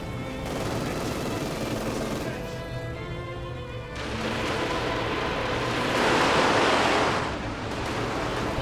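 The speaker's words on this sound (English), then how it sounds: "Rockets flying." In the Company of Heroes 2 battle game, Panzerwerfer rockets fly with a dense, rushing roar of launches and explosions that swells and fades over several seconds, a loud continuous barrage.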